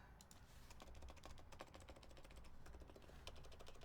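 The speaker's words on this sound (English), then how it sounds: "Let's do a type test on this." Rapid typing on a mechanical keyboard with stabilized keys and an added spacer, a dense run of crisp clacks and thocks close to the mic, steady and continuous with no talking.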